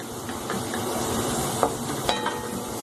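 A lump of asafoetida frying in hot oil over a low flame, a continuous fizzing sizzle with a couple of sharp ticks and clinks near the end, close, no speech, ending abruptly.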